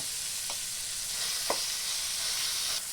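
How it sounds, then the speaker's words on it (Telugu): A steady, even hiss of tempering spices frying in oil until golden, with a couple of soft stirring scrapes and no voices. "పోపు దినుసులు దోరగా వేగినాయి"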